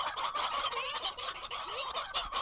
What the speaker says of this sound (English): Our chickens over here are breeding nicely.